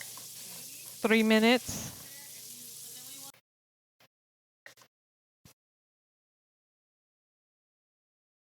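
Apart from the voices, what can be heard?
sauteing meat sizzling in pot for eggplant stew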